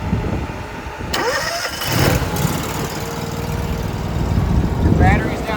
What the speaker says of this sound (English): This is the Honda IGX 700. It is an electric choke, so to start it, just turn it on and then bring it over to start.